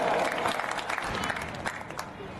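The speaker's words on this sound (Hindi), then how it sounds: "इसके लिए जोरदार तालियां" Gathered guests at a welcome ceremony for international kabaddi players clap together in continuous, fairly soft applause that holds steady across the short moment.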